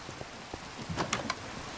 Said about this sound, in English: maybe we'll get rid of the rain